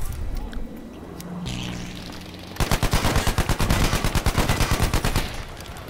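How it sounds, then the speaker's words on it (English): Sustained machine gun fire in the video game Battlefield V, a loud rapid burst of evenly spaced shots starting abruptly after a few seconds of engine rumble and distant battle noise, close up and continuous to the end. "I got them with my machine gun."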